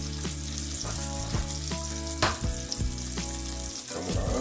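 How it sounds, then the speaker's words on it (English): An egg sizzles on a Blackstone E-series electric griddle with no oil, a steady close frying hiss running throughout with a brief louder crackle midway and no talk. "So we're going to go ahead and drop one egg in."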